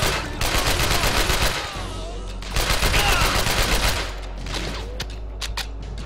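AK-47s firing in a shooter video game: two long, loud bursts of rapid automatic fire up close, separated by a brief lull, trailing off into scattered sharper single shots near the end.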